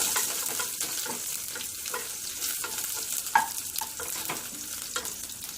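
Garlic, curry leaves and dried red chillies sizzle steadily in a pan of hot oil for a green banana fry, with soft scraping stirs breaking through the continuous frying crackle.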